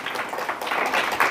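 A church congregation claps hands together in a dense, continuous patter of applause that swells slightly toward the end, moderately loud and without speech over it.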